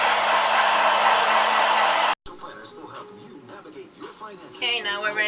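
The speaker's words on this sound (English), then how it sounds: "now we're ready for blow drying" A hair dryer blows loud and steady on a cat after its bath, then cuts off abruptly, leaving quieter rustling and a high whine near the end.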